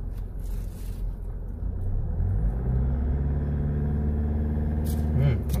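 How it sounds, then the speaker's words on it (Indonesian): Inside the cabin of a Mitsubishi Pajero Sport Dakar, the diesel engine starts up and settles into a muffled, steady idle. It then rises in pitch as it is revved, with a smooth but recognisably diesel rumble. "Coba ya, mesinnya saya nyalakan dan saya gas."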